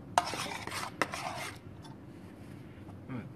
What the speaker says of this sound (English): I'm mixing it up so much because I really want those brown sugars to mix to like break apart